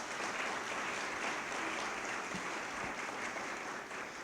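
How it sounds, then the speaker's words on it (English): A big round of applause from the audience at a Hispanic Heritage community breakfast in Buffalo, a continuous, even wash of clapping heard from a distance and fairly faint. "Let's give them a great big round of applause"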